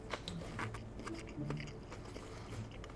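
Someone chewing chicken nuggets up close produces soft, moist crunching and biting noises in an irregular rhythm, fairly quiet against a low background hum.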